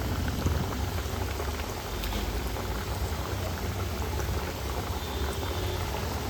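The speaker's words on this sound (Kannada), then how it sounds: "ಎಣ್ಣೆ ಬಿಸಿಯಾಗಿದೆ, ಫ್ರೈ ಮಾಡ್ಕೊಳ್ಳೋಣ" Homemade sweets frying in hot oil, a dense, continuous bubbling sizzle with crackling pops, close and fairly loud, steady throughout with no talking.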